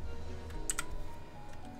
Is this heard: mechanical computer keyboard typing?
yes